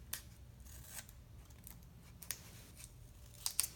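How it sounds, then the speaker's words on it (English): Scissors snip through card stock on a handmade mermaid card, giving a few quiet, separate cuts over a soft background hum. "I'm just going to cut from the corner of the card"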